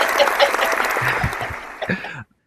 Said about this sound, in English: I'm going to give you some applause.